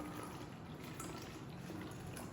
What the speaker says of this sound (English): We are pouring the water inside.